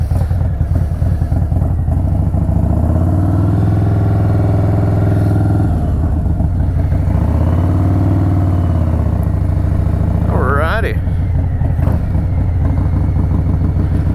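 Harley-Davidson Softail Street Bob, Stage II build, ridden along with a loud steady engine drone and wind rush, rising in two gear-change swells, with a brief high squeal near the end.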